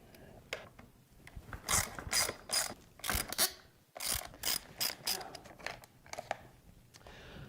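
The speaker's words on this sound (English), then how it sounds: "Mine just takes some Allen wrenches. I'll pull this off very quickly" Allen wrenches work loose the hand guards on a motocross bike handlebar, giving irregular close bursts of clicking and ratcheting with short pauses between turns.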